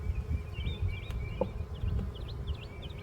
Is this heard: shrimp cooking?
no